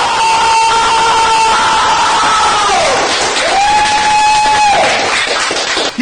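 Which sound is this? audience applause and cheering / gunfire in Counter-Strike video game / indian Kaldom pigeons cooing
audience applause and cheering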